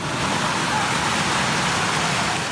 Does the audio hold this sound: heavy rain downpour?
yes